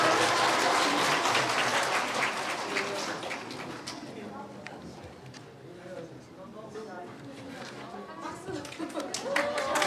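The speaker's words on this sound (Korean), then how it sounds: "박수로 다시 한번 해주시면 감사하겠습니다." Audience applause at a church intergenerational worship service, a dense burst of clapping that thins and tapers after a few seconds, with scattered crowd chatter and voices mixing in throughout.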